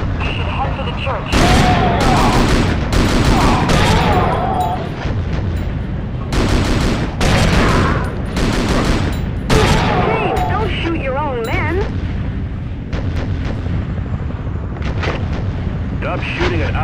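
Gunfire in World War Zero: Iron Storm, a PS2 war game, with repeated loud bursts of rifle and machine-gun fire and heavy booms over a constant battle rumble, and a voice speaking between volleys.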